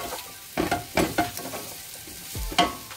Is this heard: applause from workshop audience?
no